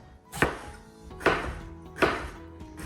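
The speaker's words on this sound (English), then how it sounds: "So we're just chopping them up into half moons here." A knife chops eggplant into half moons on a cutting board in three sharp, evenly spaced cuts, close up and with no talking.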